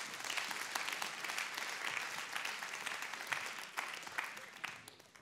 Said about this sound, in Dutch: Zullen we een hartelijk applaus geven aan Steve van Deventer?